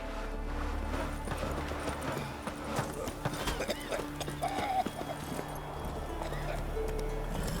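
In The Witcher 3, the horse Roach gallops with rhythmic hoofbeats over a low game ambience, with a short whinny-like tone partway through. Speech is faintly mixed in.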